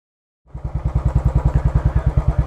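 A Royal Enfield Bullet Trials Works 500 replica single-cylinder motorcycle starts up after a moment of silence, then thumps in a loud, steady, fast rhythmic beat close by.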